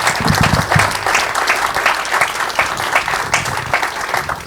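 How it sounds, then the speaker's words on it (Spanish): Loud, dense applause from a church congregation after a sermon, steady clapping sustained throughout without pause. "demos un aplauso al Señor"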